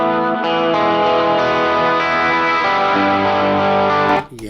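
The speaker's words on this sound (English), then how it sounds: "Here's the Epiphone single coil bridge." Electric guitar played through an Epiphone single-coil bridge pickup, loud sustained chords with a bright, effected tone rich in harmonics, ringing steadily for about four seconds before cutting off abruptly.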